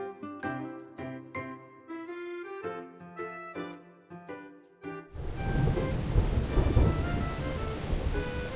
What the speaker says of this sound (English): That sounded like thunder.